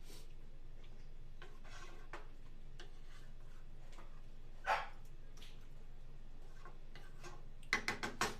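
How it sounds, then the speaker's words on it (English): A Shiba Inu barks in the background of a kitchen, scattered sharp yelps that sound distant and faint at first, then a quick cluster of louder barks at the end, over a low ticking hum. "Don't mind my little rotten Shiba in the background, just barking like crazy."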